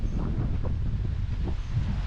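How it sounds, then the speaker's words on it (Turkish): Wind blows steadily with a low, rumbling buffet, gusting softly across the whole stretch on Gorée Island, Senegal, with no one speaking. "Oh, nasıl güzel rüzgar esiyor"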